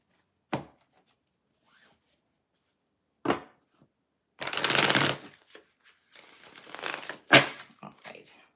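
Tarot cards being shuffled close up: a couple of sharp single snaps, then a long riffling shuffle and a further flurry of flicking and sliding cards, with no speech.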